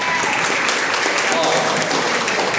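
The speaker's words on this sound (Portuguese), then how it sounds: "salve de palmas para o acólito" A church congregation at Holy Mass applauds an acolyte with sustained, dense clapping that fills the room evenly, while a voice talks faintly over it.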